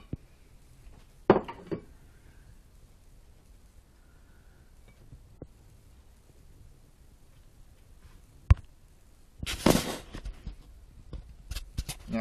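A few sharp clinks of dishware, a ceramic plate knocked and set down nearby, with a louder clatter of handling near the end.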